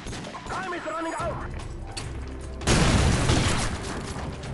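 Gunfire and an explosive burst in Call of Duty 4 Modern Warfare Search and Destroy, heard as crashing, booming game audio that swells in the second half beneath someone talking.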